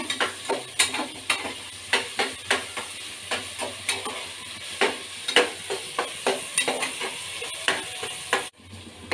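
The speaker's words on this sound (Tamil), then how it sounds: "பாருங்கள் இது வதங்கிட்டு இருக்கு வதங்கட்டும்" Chicken biryani ingredients sauté in a pan with a steady sizzle, punctuated by regular scraping and tapping strokes of a spoon against the pan, close and continuous with a brief pause near the end.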